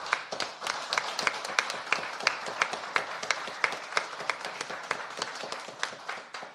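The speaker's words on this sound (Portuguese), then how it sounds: "E eu quero pedir uma salva de palmas para eles." An audience claps for eleven students, a dense run of individual hand claps at moderate distance, steady and fairly quiet with no talk over it.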